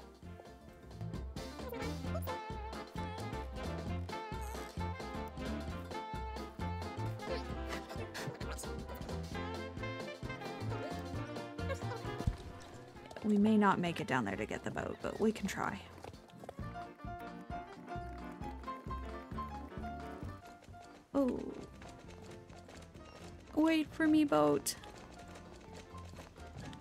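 Steady clip-clopping hoofbeats from a galloping horse in Star Stable Online, moving under game music while a player talks over parts of the run.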